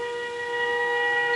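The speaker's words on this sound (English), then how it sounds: "Across the kingdom, air raid sirens warned civilians and soldiers to take cover." Air raid sirens sound a steady, sustained wail across Saudi Arabia during the 1991 Gulf War, warning of incoming Scud missiles, distant and unbroken with no voices.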